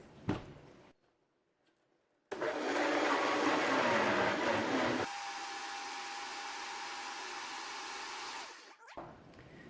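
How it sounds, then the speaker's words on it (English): A Vitamix blender whirs loudly for several seconds as it blends granola ingredients, shifting to a steadier lower pitch partway through before cutting off; soft clatter is heard before it starts. "Now we're just going to turn it on, blend it up for a few seconds."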